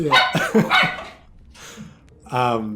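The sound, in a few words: dogs barking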